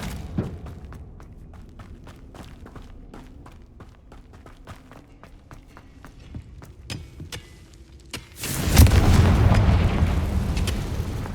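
A Confringo fire spell in Hogwarts Legacy lets off a loud burst that swells into a heavy, sustained roar. Before it comes a run of sharp, rhythmic impacts and thuds.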